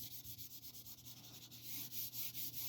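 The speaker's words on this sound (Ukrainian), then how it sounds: "ми вже зішліфовуємо наждачкою з значно меншим образивом" Fine 400-grit sandpaper rubbing across a Harley Benton bass guitar body in quick, regular back-and-forth strokes, a soft, close, rhythmic scratching that speeds up slightly toward the end.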